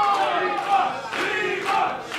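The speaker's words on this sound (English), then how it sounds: "Crowd firmly, firmly behind Leva Bates." A wrestling crowd cheers and chants loudly and steadily throughout, with voices swelling in waves and no commentary audible over it.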